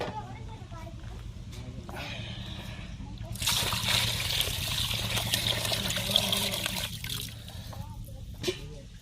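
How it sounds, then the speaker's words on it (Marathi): Water sloshes and trickles steadily as goat legs are rinsed in hot water, with splashing growing louder midway, under a continuous low background hum. "पहिले गरम पाण्यात चांगलं धुवून घेऊ, म्हणजे त्याच्यावरचे केस सगळे निघून जातील"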